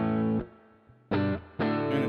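Three bursts of heavily processed, distorted instrument tone pass through a reverb in IK Multimedia MixBox, each loud and bright with short gaps and softer decaying tails between them.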